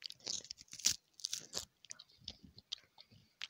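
Crackers being eaten up close, crisp crunching bites followed by quieter irregular chewing, alone without talk.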